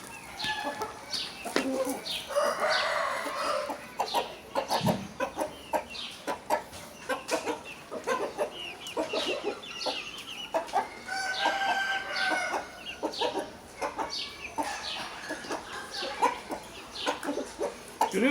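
Chickens cluck and chatter continuously nearby, with a rooster's crowing calls mixed into the busy, uneven farmyard noise.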